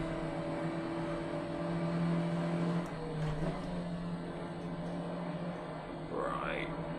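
A car engine in a racing video game holds a steady drone with fairly even power across the rev range, then gives a short rising rev, all under ongoing talk.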